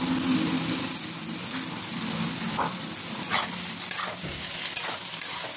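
A paste of ground poppy seeds and green chilies sizzles in hot oil, a continuous crackling hiss broken by occasional stirring scrapes.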